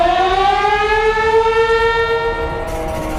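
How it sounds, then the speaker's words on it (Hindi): A civil defence war siren sounds for a war-game drill in India, a loud steady wail with rising and falling harmonic tones that holds for the whole stretch with no talk. "अब भारत ने वॉर गेम के लिए सायरन बजा दिया है।"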